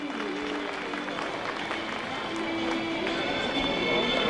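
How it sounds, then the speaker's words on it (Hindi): Faint applause at a school annual day rises for a child who placed second, soft steady clapping from an audience heard at a distance with a low background hum. "जोरदार तालियां इस बच्चे के लिए।"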